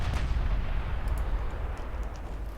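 16-inch naval guns booming in the naval battle game Ultimate Admiral Dreadnoughts, a dense, continuous low rumble of heavy cannon fire rolling on without a break.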